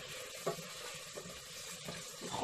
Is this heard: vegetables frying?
yes